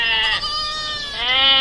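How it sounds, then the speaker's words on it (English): A goat bleats loudly and close, one long wavering nasal cry with a brief break partway through, heard on its own. "Goat,"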